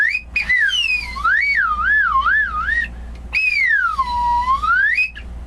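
A human voice imitates a slide whistle with high, gliding whistle-like swoops that rise and fall in two long phrases, clear and close with no other sound over it.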